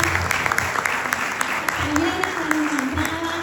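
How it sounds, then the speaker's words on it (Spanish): An audience in a cinema hall applauds at a film festival talk, with loud, steady clapping and a voice briefly audible over it. "también Javiera Bravo, con un fuerte aplauso para ella."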